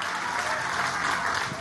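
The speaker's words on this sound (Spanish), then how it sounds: "Aplauso a la empresa." Crowd applause at a political rally with Venezuela's president, steady clapping filling the space evenly and fairly loud for the whole stretch, with no break in it.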